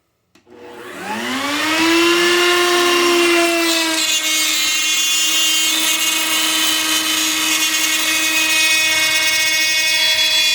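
A power tool making a cut on a lip cutting jig, spinning up after a click into a loud, sustained whine that holds steady to the end.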